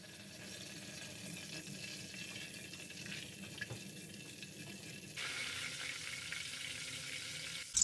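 Cumin seeds frying in hot ghee, a quiet sizzle and crackle that rises and brightens partway through, steady and close with no talk.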